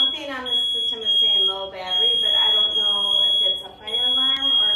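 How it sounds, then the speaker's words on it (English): A home fire alarm system sounds a continuous high-pitched electronic tone as a low-battery warning, steady and clearly audible beneath people talking close by throughout. "Something on the system is saying low battery, but I don't know if it's a fire"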